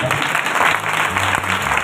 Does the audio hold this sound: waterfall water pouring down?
no